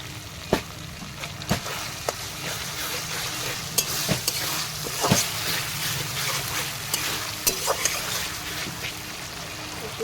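Tomato paste sizzling in a pan for a river aar fish curry, a continuous close frying hiss broken by scattered clicks and spoon scrapes as it is stirred, with faint voices in the background.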